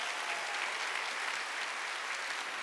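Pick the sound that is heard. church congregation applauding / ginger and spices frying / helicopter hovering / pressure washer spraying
church congregation applauding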